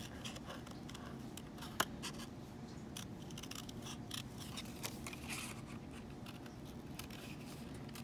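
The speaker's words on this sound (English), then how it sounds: "now what we're going to do is cut this out with scissors" Quiet snipping and crisp paper rustles repeat irregularly as scissors cut out a paper card, close up, with one sharper snip early on.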